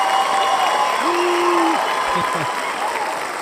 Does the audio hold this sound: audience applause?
yes